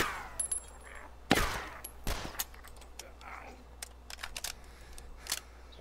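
Gunfire aimed at the player in the video game DayZ: a few sharp, separate shots and cracks at irregular intervals over a quiet background, with a voice talking between them.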